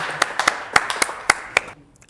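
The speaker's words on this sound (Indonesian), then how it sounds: "Kita berikan aplaus dulu dong" A small group claps in a lecture setting, a handful of sparse, distinct hand claps spread over two seconds and fading out, close and thin rather than a full ovation.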